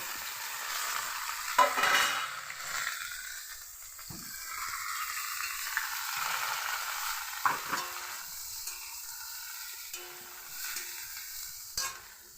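Soya chunks and potatoes going into hot oil with cumin seeds, giving a steady hissing sizzle with scraping stirs and a few clattering knocks as they are turned in the pan.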